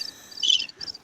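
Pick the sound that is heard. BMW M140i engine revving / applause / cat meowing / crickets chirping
crickets chirping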